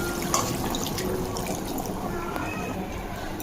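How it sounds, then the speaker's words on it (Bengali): Water is poured into chicken meat cooking in a pot after ghee has been added, making a steady, fairly loud, unbroken splash and rush of liquid. "এবার মাংসে আমি জল দিয়ে দেবো।"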